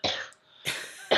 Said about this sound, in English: as I do have a bit of a cough.